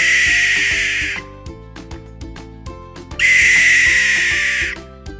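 Two long, harsh hissing screeches from a captive barn owl, loud and close, separated by a pause filled with quiet clicks and knocks.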